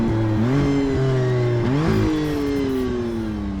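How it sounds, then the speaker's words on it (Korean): A McLaren Artura hybrid supercar with a twin-turbo engine and electric motor, 680 horsepower combined, accelerates hard. The engine note climbs, drops briefly at a gear change, then rises again, loud and close, with no talking. "가속 페달을 끝까지 밟기가 무서울 정도예요"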